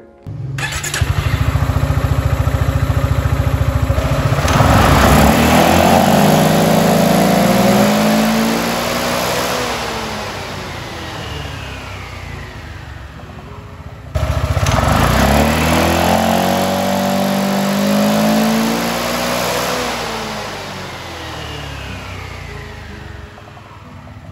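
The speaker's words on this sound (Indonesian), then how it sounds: "ini dia perbedaan ketika motor digas menggunakan roller standar dengan roller 14 gram" A Yamaha XMAX 250 scooter engine with 14-gram CVT rollers revs up twice, climbing steadily to a loud whine and then winding down, close and continuous.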